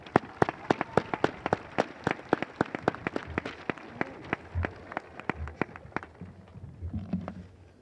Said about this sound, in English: Can we give them a nice round of applause?